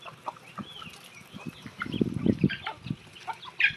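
Young High Flyer and Aseel chicks on a farm cheep and cluck in short, scattered calls. A livelier cluster comes in the middle, close and fairly quiet, against a soft outdoor background.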